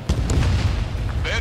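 A missile explosion in the Ace Combat 7 flight game lands as a dull low boom and continuous rumble that fill the clip, with brief higher bursts over the top and faint radio chatter mixed in.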